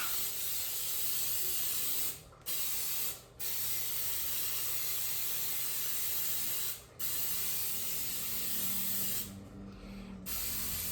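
Oil spray hisses onto a bundt cake pan in long continuous bursts, close and steady, broken by a few brief pauses.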